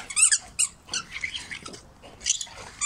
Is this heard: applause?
no